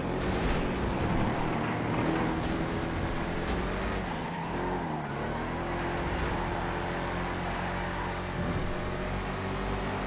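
Steady roar of racing car engines in a GTA driving game, vehicles pushing past a monster truck, a continuous loud engine drone with tire noise and no talk.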